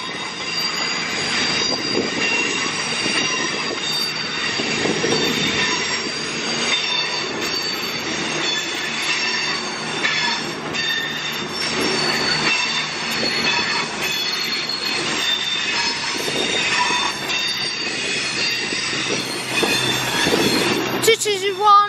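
A Holyhead train rolls through Crewe station, wheels squealing with sustained high-pitched tones and a loud rumbling roll of carriages that continues throughout, with rising screech near the end.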